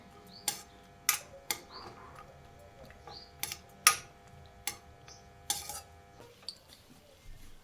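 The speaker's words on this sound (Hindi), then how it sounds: "काजू को भी धीमी आंच में भून लेंगे" Cashews roast in a pan over low heat, giving a series of sharp, separate clicks and taps roughly every half second as they are stirred, over a faint background hiss.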